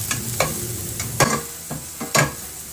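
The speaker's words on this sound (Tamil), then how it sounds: "சேர்த்துட்டு இதை ஒரு தடவை நல்லா வதக்கி கொடுத்துடலாம்" Onions and chilies sautéing in a pan: a constant sizzle with scraping stirs and clacks of a spoon at irregular intervals, close up.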